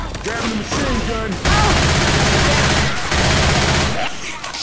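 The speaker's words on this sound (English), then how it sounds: "Grab the machine gun!" Sustained machine gun fire in the video game Left 4 Dead 2, dense rapid bursts that are loud and close, filling the scene with continuous gunfire and brief pauses between volleys.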